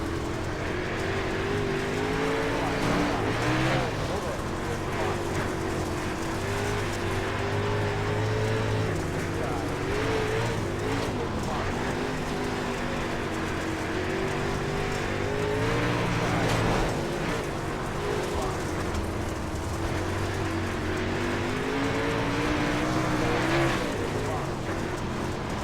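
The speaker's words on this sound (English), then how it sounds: "Car pushing us down the straightaway." Super late model race cars roaring around the Limaland oval, with a continuous loud engine drone that rises and falls as cars pack together and pass, steady throughout with no clear breaks.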